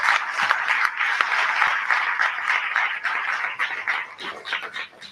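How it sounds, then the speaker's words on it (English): Sustained applause from a crowd at a national labour conference, dense steady clapping throughout with a few louder individual claps standing out. "Let's give His Excellency a round of applause"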